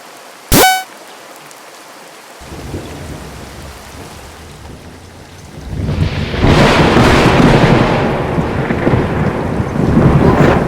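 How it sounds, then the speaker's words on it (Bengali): Heavy rain pours down, swelling louder partway through after a brief sharp honk at the start; a dense, continuous roar with no voices. "উফ, এত বৃষ্টি!"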